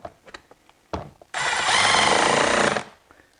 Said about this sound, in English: impact drill